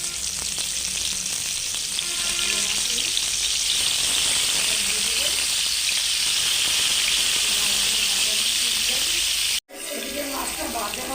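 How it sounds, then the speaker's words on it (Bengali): Pangasius fish pieces frying in a small amount of oil produce a loud, continuous bubbling sizzle with brief clatters, a short dropout near the end, and faint voices in the background. "এখন এর ভিতরে আমি মাছগুলো দিয়ে দেবো।"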